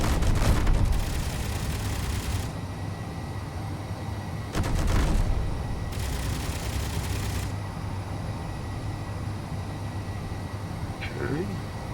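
Gunfire in the video game Space Engineers shooting a target down comes as a sharp opening bang, then several loud rattling bursts of a second or two each, separated by short pauses.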